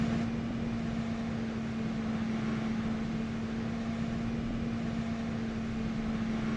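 In DCS World, the right engine of an F-15E Strike Eagle spools during start-up, a steady faint mechanical whine over a low hum, constant and unchanging throughout.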